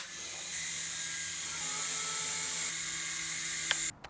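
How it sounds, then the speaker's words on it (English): An S107H-E remote control toy helicopter hovers outdoors in a park, giving a steady, high, buzzy whine close by that holds for about four seconds and then cuts off abruptly. "this is the S107H-E hovering function remote control helicopter"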